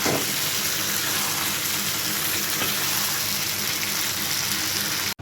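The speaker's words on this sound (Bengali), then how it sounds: "এখন আমি এখানে জল ঢেলে দেবো" Water poured into a pot of browned meat curry on a home stove, a steady hissing sizzle with gurgling that holds evenly and loud for several seconds, then cuts off abruptly at the end.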